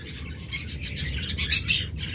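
A pair of lovebirds, a blue opaline pair, chirps in a few brief bursts over a steady low background rumble. The calls are moderately close, and no one talks.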